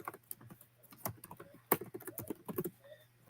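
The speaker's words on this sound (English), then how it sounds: "So let me type in the word image." Keys clatter on a computer keyboard as a word is typed, a quick uneven burst of close, crisp clicks over a faint steady hum.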